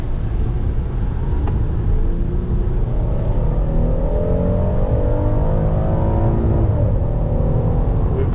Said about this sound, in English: We pushed it to red line and accelerating.